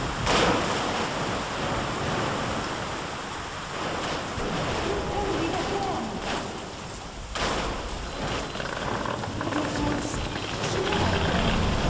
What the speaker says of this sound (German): Der Wind wird immer schlimmer.